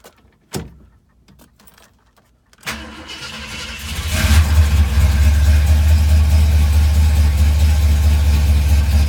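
A 1968 Ford Galaxie 500 Convertible is cold-started: a couple of sharp clunks from the key and switch, a brief crank, then the engine catches and settles into a loud, steady, rumbling idle.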